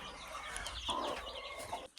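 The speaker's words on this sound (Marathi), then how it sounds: "हे बघू शकता आपल्या इथं कोंबड्या आहेत." Chickens cluck softly nearby at a home with hens and eggs, a few short, faint clucks over a quiet background.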